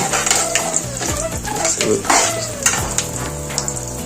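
Pulihora with turmeric being stirred in a sizzling pan, loud continuous frying hiss with scraping spoon strokes and clinks of metal, under a background hum and some voice-like tones.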